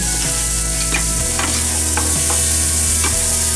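Venison backstrap searing and caramelizing in a hot pan, a loud continuous sizzle broken by repeated scrapes and clanks of a utensil turning the meat, close and without talk.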